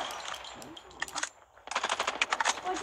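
AK-47 fire in Call of Duty, two rapid automatic bursts of sharp, close cracks separated by a brief pause.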